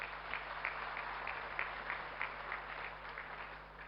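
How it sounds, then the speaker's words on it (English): Audience applause at a CA conference in an auditorium, a steady, fairly faint wash of many hands clapping over a low hum, sustained throughout without pauses. "A big round of applause, please."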